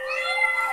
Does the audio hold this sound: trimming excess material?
no